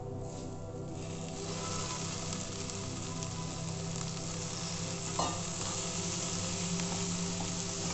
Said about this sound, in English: we continue to mix the prawn along with the masalas